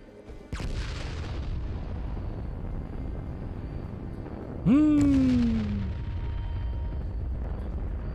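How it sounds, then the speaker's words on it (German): A single deep explosive boom from an orbital strike in the video game Fallout 76, with a falling whine over a low rumbling background, preceded by a sharp thump, then fades out. "Aber meine Orbitalschläge rumsen besser."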